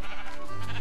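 Sheep bleating in Minecraft, a short nasal call repeating in a couple of pulses, heard up close over a faint game background with no talk.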